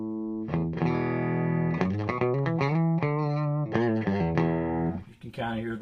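Electric guitar played through an Amptweaker PressuRizer compressor pedal set fully wet, with a busy run of distorted, sustained notes, loud and near, ending in a short scratchy burst.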